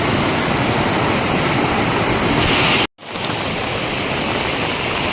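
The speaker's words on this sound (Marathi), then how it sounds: "बघूया पाणी किती आलं आहे पर्यामध्ये आवाज तर बघा" A flooded stream in the Konkan beside rice fields rushes in a loud, continuous roar, broken once by a brief cut to silence before the heavy torrent resumes just as strongly.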